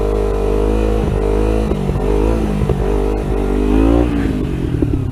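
A Kawasaki Ninja 300 motorcycle engine drones loudly and close during a wheelie, its pitch wavering as the throttle eases and the foot brake slows it down.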